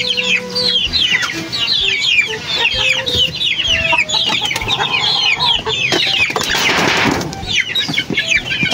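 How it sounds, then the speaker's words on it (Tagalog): Flock of chickens clucking excitedly while feeding on poured feed, many overlapping close clucks and squawks with a burst of wing flapping. "Tatakaw din itong mga manok na to."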